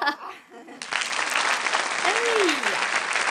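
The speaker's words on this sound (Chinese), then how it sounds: "鼓掌。" A studio audience breaks into sustained, even applause on a Chinese children's TV show, filling the space loudly after a short spoken moment, with a brief vocal cue sliding through the clapping.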